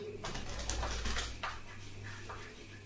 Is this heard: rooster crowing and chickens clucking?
no